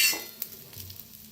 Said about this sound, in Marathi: ह्याच्यातच टाकूया धन आणि जिरं, ते बी भाजून घ्यायचं।